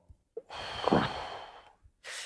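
A person takes one slow, deliberate breath, close and soft. A long audible exhale swells and fades, and short breathy sounds come just before it and just after it.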